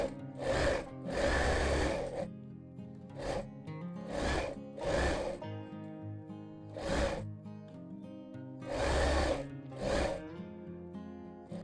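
A sewing machine stitching a blouse part to its lining, running in short rhythmic bursts of a few seconds with brief stops between, heard close and fairly loud.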